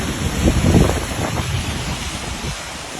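Strong floodwater flows at Moragahakanda dam in Sri Lanka as a loud, continuous rushing roar mixed with wind buffeting the microphone, with a thin steady whine above it.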